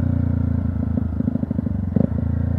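A Yamaha YZF 125 R sport bike rolls slowly over a dirt track, its engine a steady low rumble with uneven throttle pulses and a sharper burst near the end, accompanied by faint clatter from the rough ground.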